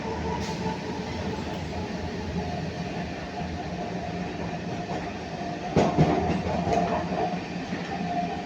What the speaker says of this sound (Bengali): তো আমাদের ট্রেন এখন বর্ধমান ঢোকার কিছুটা আগে আছে।